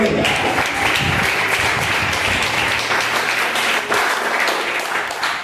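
Sustained applause from a church congregation, dense and steady throughout, with faint voices mixed in beneath the clapping.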